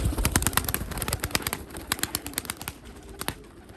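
Racing pigeons at a loft, with rapid wing flaps and clattering bursts close by, loud at first and thinning into scattered flutters toward the end, with no talk.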